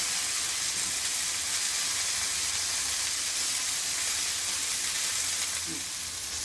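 Fish frying in a pan for a Konkani-style fish thali, a steady broadband sizzle and hiss holding evenly throughout, close and continuous with no voices.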